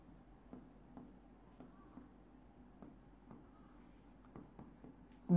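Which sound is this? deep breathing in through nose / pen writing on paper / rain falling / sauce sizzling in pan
pen writing on paper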